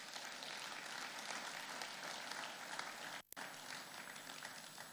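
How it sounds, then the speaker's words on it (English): Sustained applause from a conference audience at a banking institute's annual opening ceremony, dense steady clapping throughout with a momentary dropout near the end. "I think he deserves a round of applause."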